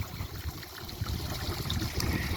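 Water spills steadily from a pond filter set atop a water fountain, running down a spillway into a bucket filter beside a polyfill filter and a pump basket, a continuous close trickle and splash with no voices.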